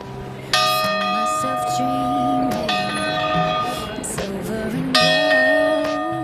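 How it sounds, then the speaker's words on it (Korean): Church bells ring out in a Ticino village, bright clanging strokes with long ringing overtones, struck in irregular clusters and restarting loudly near the end, with a voice faintly audible beneath. "종소리가 울려 퍼지니까 마을 분위기가 더 고풍스럽지 않나요?"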